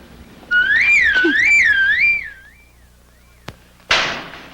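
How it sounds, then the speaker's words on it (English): A bright warbling whistle rises and falls steadily for about two seconds in a TV commercial break, then fades, followed by a sharp click and a short burst of hissing noise. "Where's that whistle?"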